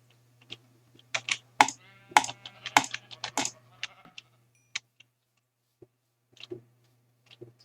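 Short Minecraft sheep bleats as the sheep is hit, mixed with sharp clicking taps, a burst of several close together, then a few sparse clicks and one more bleat near the end.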